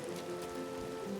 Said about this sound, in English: We'll get out from the rain.